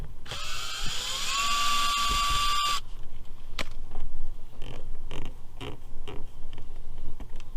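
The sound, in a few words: removing Phillips head screw from Buick door trim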